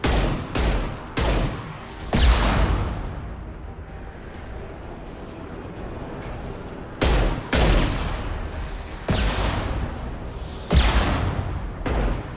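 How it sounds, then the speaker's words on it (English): Concussive Shot power firing repeatedly in Mass Effect 2, played as an Engineer: loud, sharp concussive blasts at irregular intervals, each followed by a brief rumbling decay, over low continuous background noise. "Firing concussive shot."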